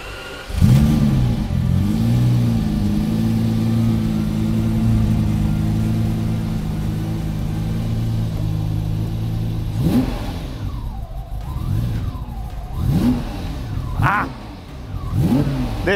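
A tuned car engine with new air filters idles steadily, then revs in several sharp rising and falling bursts in cold weather, loud and close, with no talk over it.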